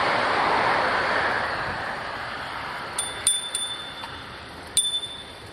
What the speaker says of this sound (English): I always ring my bell when I'm passing people on this sidewalk